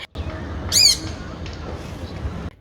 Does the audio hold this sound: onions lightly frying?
no